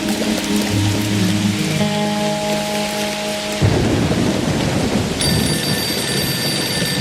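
Heavy rain pours steadily with rumbling thunder during a storm in a dam-building video game, loud and close, with tonal game sounds layered over the downpour and no talking.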